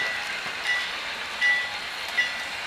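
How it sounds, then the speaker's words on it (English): A model railroad train passing through a layout yard near a port scene, a steady close rolling rush with faint clicking of wheels and brief squeals, no voices. "Train passes past the Addis yard, is coming up to the port of Baton Rouge"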